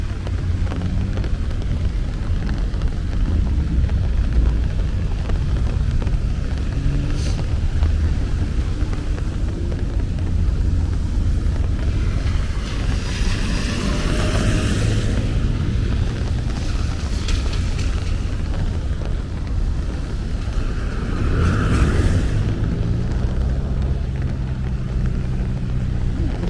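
Steady car traffic on 4th Avenue in Brooklyn during rain, a continuous low wash of passing engines and tire hiss on wet pavement, with a few louder vehicles swelling past close by.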